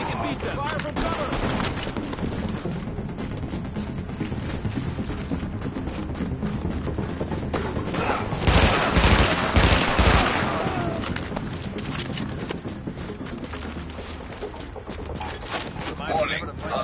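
Rapid gunfire and bursts of shooting in the video game The Division, a dense continuous barrage that swells louder around the middle, with voices talking over it throughout.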